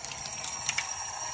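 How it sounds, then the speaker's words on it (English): Water poured into a bowl of vegan dog food, a short splashing trickle with a few brighter spatters, close and fairly quiet, with no talking. "And then I add a little bit of water."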